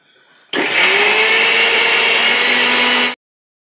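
A kitchen mixer grinder whirs loudly and steadily for about two and a half seconds while grinding chutney, starting abruptly and cutting off cleanly, with a rising motor whine and no talk.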